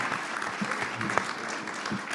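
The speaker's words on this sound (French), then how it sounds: "On va remercier Monsieur le maire. Merci, on va sous vos applaudissements" Brief applause from an audience at a climate summit in Nice honoring the mayor, a steady patter of clapping at moderate distance lasting about two seconds, with a faint voice mixed in.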